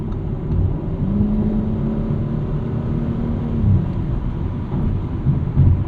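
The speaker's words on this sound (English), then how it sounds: "Great reaction there from the 8-speed automatic upon needing to do some downshifts" A 2023 Audi RS5 Competition with a twin-turbo V6 and an 8-speed automatic downshifts on the road, giving a low, rumbling engine drone that swells in short surges under a steady cabin hum.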